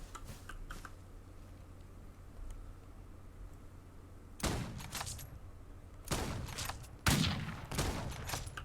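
Gunfire from the Old West video game Outlaws of the Old West as a bandit is shot: sharp bursts of shots in clusters, loud and close over a low game hum, with no talking.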